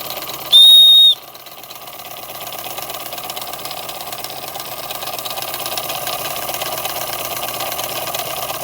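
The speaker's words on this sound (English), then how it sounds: "The Empire number 92 engine." An Empire number 92 steam engine runs steadily with a continuous, fairly loud mechanical chugging, opened by a short, sharp whistle toot before the engine noise settles in.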